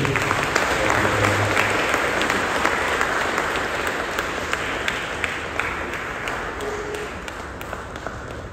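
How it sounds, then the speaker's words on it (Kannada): Loud, sustained applause from a large congregation at a feast Mass in Sacred Heart Church on Richmond Road, a dense steady wash of many clapping hands filling the hall for several seconds. "ಒಂದು ಜೋರಾಗಿ ಚಪ್ಪಾಳೆ ತಟ್ಟಿ"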